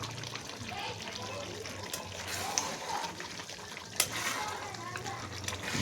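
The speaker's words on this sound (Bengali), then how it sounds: "আস্তে আস্তে রান্না হচ্ছে, আস্তে আস্তে কষা হচ্ছে" Curry with gravy slowly cooking down in a pan, a steady low bubbling sizzle with occasional stirring taps, close and moderately quiet, running continuously throughout.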